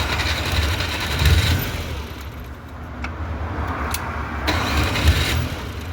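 A Daewoo Damas van engine, just back from starter repair, cranks and catches, then runs in a rough mid-pitched idle with a couple of sharp clicks and a slight rise in revs toward the end.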